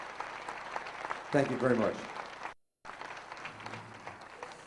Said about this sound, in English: A nice round of applause for all the groups that are on tonight.